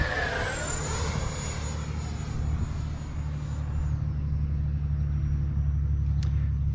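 An FMS 80mm Rafale RC jet with delta wing and canards passes at full throttle: a loud, continuous high-pitched turbine whine sweeps downward as it flies by, over a steady low rumble, nearby and without talk.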